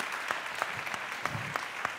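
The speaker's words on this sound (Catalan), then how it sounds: "Un aplaudiment per la Paula, si us plau" Audience applause in a theatre during a comedy contest final, a smattering of clapping with a few sharp, evenly spaced claps standing out over a soft, steady background of hands.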